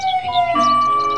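A toy fire engine's electronic siren sounds at close range, a steady two-tone wail with clear ringing pitches that holds briefly without pause.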